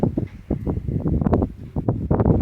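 Gusty evening south wind buffets the microphone in uneven low rumbling bursts, rising and falling throughout, in cold, damp, drizzly weather.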